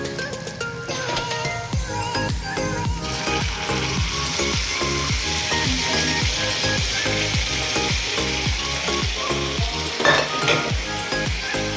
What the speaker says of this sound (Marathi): चला आता मिरची आपली परतलेली आहे आपण भाजी टाकून घेणार आहोत